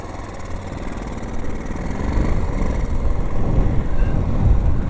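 A Honda motorbike engine runs steadily while riding off-road, a loud, close, continuous rumbling drone that builds slightly in intensity with no speech over it.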